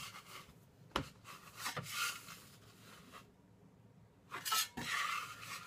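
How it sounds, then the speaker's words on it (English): A dough scraper drags bread dough across a floured counter, giving close, soft scraping strokes in irregular bursts with a couple of sharp taps and a quiet pause between them. "I'm gonna kind of use the scraper to just drag it in"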